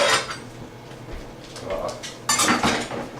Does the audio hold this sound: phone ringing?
no